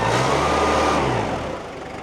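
A vehicle engine hauls a Series 3 Land Rover chassis out, giving a loud, close, steady drone that eases and fades slightly toward the end.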